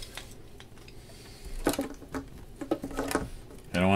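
A clamp is fitted onto a freshly glued mandolin neck joint during a neck reset, giving a few close, sharp clicks and knocks with light handling noise around them.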